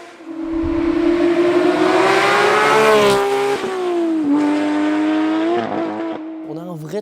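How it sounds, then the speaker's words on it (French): A Porsche 911 Speedster with a GT3 engine, manual gearbox and rear-wheel drive revs hard nearby, its loud exhaust rising in pitch and falling back as gears change, with a loud whistling note near the end. "moteur de GT3, ligne d'échappement qui fait du bruit"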